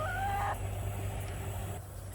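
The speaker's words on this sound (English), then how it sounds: "These chickens are barred rocks." A brief Barred Rock chicken call rises at the start, then a quiet steady background hum fills the rest of the short clip.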